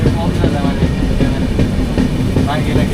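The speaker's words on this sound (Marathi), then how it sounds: "चालू झाले ट्रेन" A passenger train on a long-distance Mumbai to Renigunta run starts to move, giving a steady, loud rolling rumble with soft wheel clatter and faint voices in the background.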